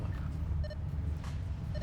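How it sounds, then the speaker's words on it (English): Faint, high electronic beeping in the factory-building video game Satisfactory, a few short tones repeating over a low steady hum. "Sorry for the beeping."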